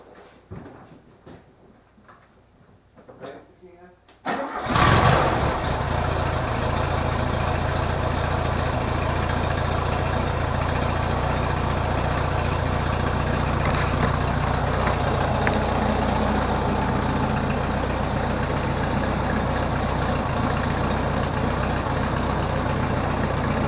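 A 1967 Volkswagen Beetle with a 1500 cc engine, freshly given a valve adjustment and oil change, cranks briefly and catches, then settles into a loud, steady idle close to the microphone for the rest of the clip.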